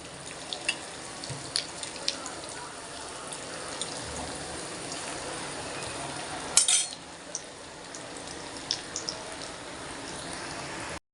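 Banana flower vada fries in oil over a medium flame, a steady, even bubbling hiss dotted with small crackles and a brief louder clatter partway through.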